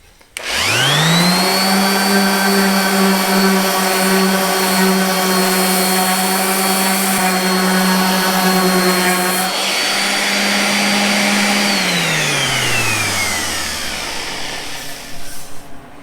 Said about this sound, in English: we're ready to hit it with the Random Orbit sander